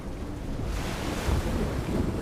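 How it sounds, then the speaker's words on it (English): Churning ocean waves in a storm give a steady, dense roar of surf and rushing water, loud and unbroken, with wind buffeting throughout. "the sea is terrifying during a storm"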